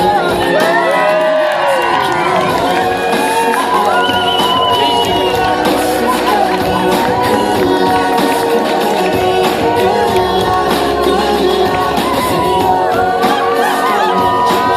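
A large wedding party crowd cheers and whoops loudly and continuously, with shouts and high excited voices throughout.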